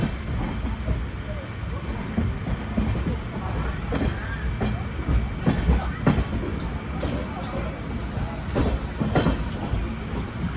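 Inside a sleeper class coach of the Saraighat Express between Kolkata and Guwahati, a steady loud rumble of the running train carries repeated clacking beats throughout.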